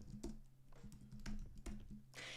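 Rapid clicking of a computer keyboard as a short word is typed during an illustration session, with bursts of keystrokes close and clear, then a brief hiss at the end.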